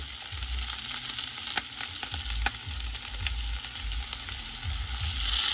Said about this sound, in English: i have some oil in this pan i'm gonna do my potato and chana